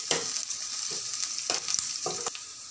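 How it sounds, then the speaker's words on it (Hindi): Onion, curry leaves and green chillies fry in hot oil for a Kathiyawadi dahi tadka, giving a steady close sizzle broken by several sharper stirring scrapes and crackles. "प्याज को हम हल्का पका लेंगे और हम कुछ कड़ी पत्तों को भी ऐड कर देंगे।"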